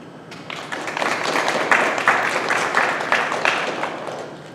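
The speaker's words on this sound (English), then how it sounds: "please join me once again in applauding all of our new Honor Society members" Audience applause at a National Junior Honor Society induction ceremony at a PK-8 school, a steady wash of many hands clapping that swells slightly and holds for several seconds, with faint voices mixed in.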